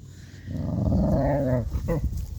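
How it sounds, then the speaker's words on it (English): A bulldog makes odd low growling, grumbling noises up close, rising into a whiny groan before breaking into short snorts. "Do bulldogs make weird noises? Yes. Yes, they do."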